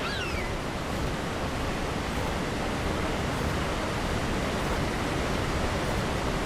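Waterfall in a video game, a dense, steady roar of rushing water that stays loud and even throughout, with no voices.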